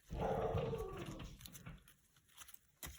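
A dog gives one loud bark indoors, followed by a few fainter rustles and small thumps, with no talking.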